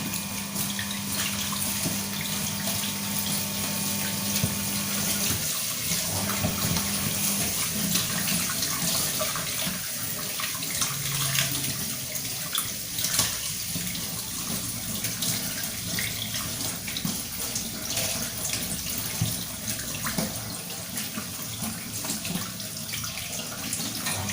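Tap water runs steadily into a sink while raw meat is rinsed under it. A continuous, fairly quiet splashing wash goes on throughout, with no talk.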